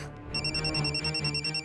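A mobile phone rings in a room with a bright, repeating electronic ringtone whose pulsing melodic tones keep going steadily after a brief quiet start.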